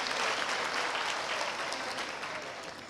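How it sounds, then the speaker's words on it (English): A crowd applauds, with dense, steady clapping that fades slightly toward the end. "Clap hands for them."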